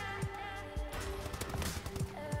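ASM1 assault rifle fire in the shooter game Advanced Warfare, with rapid bursts of close gunshots and impacts layered over game sound, fairly faint overall.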